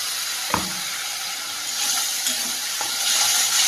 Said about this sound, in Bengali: মশলাটা সুন্দর করে কষিয়ে নিয়েছি মশলা থেকে তেলটাও ছেড়ে দিয়েছে